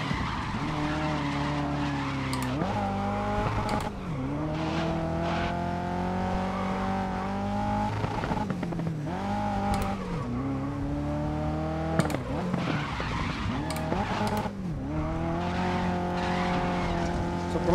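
Ford GT40 race car in the GRID 2019 racing game, engine droning steadily and rising and falling with gear changes as tires squeal and skid repeatedly through aggressive cornering, with no talking.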